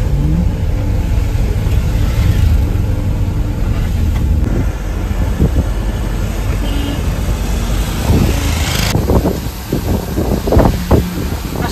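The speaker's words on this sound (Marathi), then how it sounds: "मानगावला ट्रॅफिक लागलेलं आहे." A car moving through traffic at Mangaon, with a loud continuous engine and road roar and wind buffeting. The engine surges in places, and passing vehicles and a few knocks come near the end.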